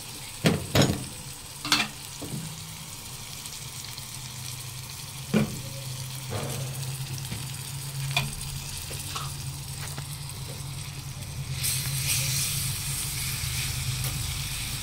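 Garlic, coriander and ghee sizzle in a pan, a steady close frying hiss with a few sharp clicks and stirs, swelling louder near the end, with no talk.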